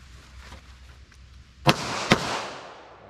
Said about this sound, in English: So I'm going to do a double tap now, 4 yards.